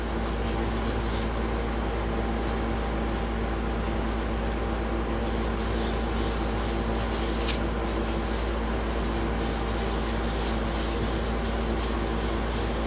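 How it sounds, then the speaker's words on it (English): A cloth wipes clear shellac sealer over a hickory wood bowl, making a steady, close rubbing swish that runs continuously over a constant background hum, with no voices. "just got some regular old shellac clear transparent sealer, and I'm just going to wipe it down"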